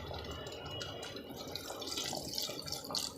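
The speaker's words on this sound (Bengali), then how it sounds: "ভালোভাবে কষিয়ে নেওয়ার পর এবার এতে অ্যাড করব পানি" Water is poured into a pot of pumpkin dal, a moderate steady splashing pour with bubbling and dripping, close by and without talk.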